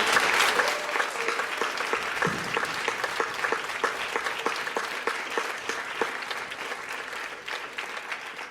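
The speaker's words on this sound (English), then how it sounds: "a big round of applause for all the recipients and fund holders" An audience at a community foundation awards ceremony applauds the recipients of awards, scholarships, bursaries and grants, steady close clapping that runs for several seconds and slowly tapers.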